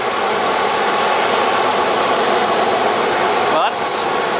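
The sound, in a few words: Airbus A340 aircraft at Zurich Airport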